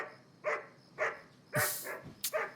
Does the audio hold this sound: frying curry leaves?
no